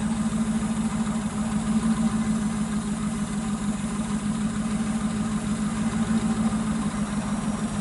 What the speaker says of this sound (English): Sounds good. It's got dual exhaust with a transverse muffler.